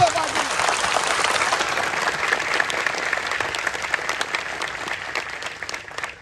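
Audience at a devotional gathering in Nashik claps steadily and loudly throughout, a dense, sustained round of applause that tapers slightly near the end.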